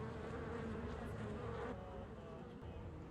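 Hornets from a Nancy Drew video game drone in a continuous, even buzz that stays quiet and steady throughout.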